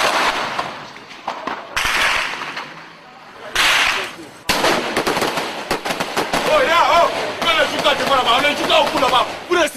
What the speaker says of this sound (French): Vous tirez sur les gens, il y a quoi?